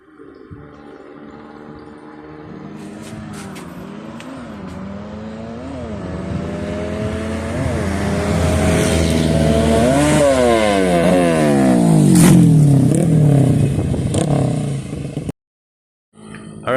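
A street-tuned 130cc motorcycle engine with an open valve revs hard during a test run after a CDI swap, climbing through repeated gear-like pitch rises, loud and near, then cutting off abruptly.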